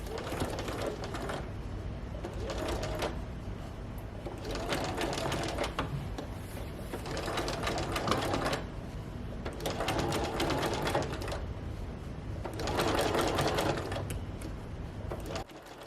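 A sewing machine stitches a rolled hem in rapid, buzzing runs, stopping and restarting several times, close up and fairly quiet, with no talking.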